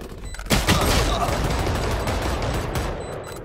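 Gunfire in Valorant erupts as a sharp shot and then a continuous, loud barrage of rapid fire that holds close and dense.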